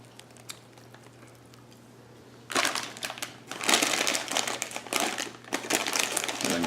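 Crinkling of a bag of chips, with faint rustles at first, then bursts of loud, close crackling crunches in several bouts.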